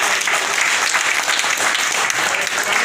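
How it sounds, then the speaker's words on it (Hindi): Dense, steady applause from a large seminar audience at a business success event in Sikar, sustained and loud throughout with no break. "और एक बार जोरदार तालियां।"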